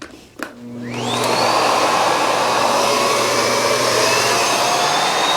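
A Miele Boost CX1 Cat & Dog vacuum cleaner switches on at maximum suction, rising quickly to a loud, steady whine and airy roar that holds alone without pause.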